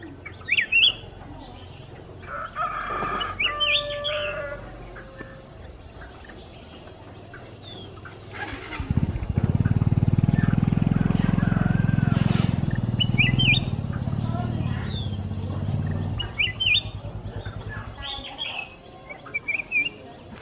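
Chinese hwamei songbirds sing in bursts of bright, high chirps and whistled phrases, some close and some more distant, with a low rumbling stretch in the middle and no talk.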